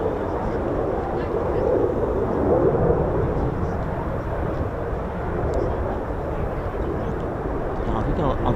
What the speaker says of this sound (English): Not very often you get afterburners on low approach.